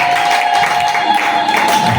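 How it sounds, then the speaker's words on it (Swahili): A church congregation claps strongly and continuously, a dense steady wash of applause with no break, filling the room at close range. "Tumpashie Bwana makofi ya nguvu na makofi makubwa kwa Bwana Yesu"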